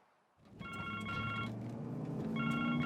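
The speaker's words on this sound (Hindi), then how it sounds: "छोटे, फोन उठाकर बात तो कर।" A phone rings with a repeated electronic trilling tone in two bursts, moderately loud over a background of music and ambience in a Hindi-dubbed action movie scene.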